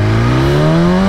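BMW S1000 RR sport bike engine revving hard during a wheelie, a loud, close, rising whine that climbs steadily in pitch over a brief second.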